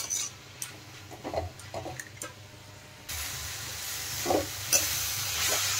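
Banana flower stirred and fried with spices in a pan: a low sizzle under intermittent scraping strokes of a spoon, growing louder and more steady partway through.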